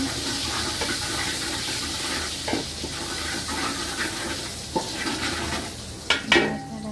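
A biryani pot stirred after salt goes in, a soft steady simmering hiss with a few scraping clinks and a louder metallic knock near the end, no talking.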